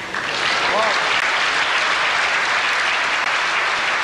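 Packed boulodrome crowd applauding a good pétanque point in a 1994 final, loud dense clapping from a large audience sustained throughout, with a commentator's voice over it.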